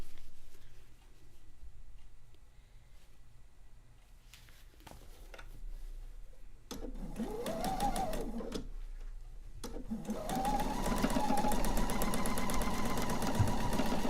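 A sewing machine stitches quilt top pieces together in two bursts of steady running, the first brief and the second longer, with quiet handling and rustling fabric beforehand.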